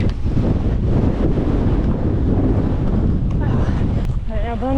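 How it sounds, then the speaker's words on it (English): Strong gusty wind buffets the microphone continuously during an outdoor bike race, a loud rumbling roar, with a brief voice or squeak near the end. "this is the first moment that the wind has been legitimately like a bit rough"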